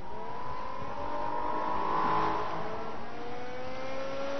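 A race car engine in Forza Motorsport 2 at Sebring gives a steady, loud whine whose pitch climbs and shifts throughout, with no talking.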